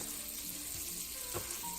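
Sausage sizzling in a pan gives a steady, close frying hiss with faint crackles throughout, and nothing else is heard.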